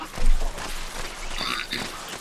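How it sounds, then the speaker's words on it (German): A frog croaks in the video game Fallout 76: a short, moderately loud croak with a raspy, buzzing edge, heard alone over low ambient game noise. "Ein Frosch."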